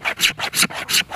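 A knife scrapes down a dry stick of fatwood in five or six rapid, rasping strokes, each a close, bright scratch with brief gaps between, heard alone.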